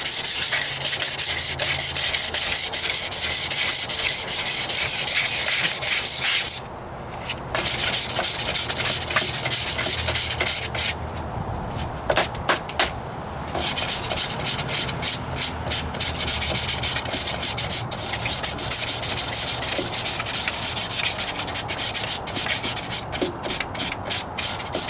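Bondo body filler being sanded by hand on a Ford Ranger rocker panel: continuous harsh, rapid scratching strokes, loud and close, broken by a few short pauses.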